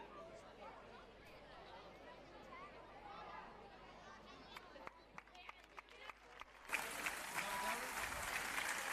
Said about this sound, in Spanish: Más aplausos para el equipo cadete.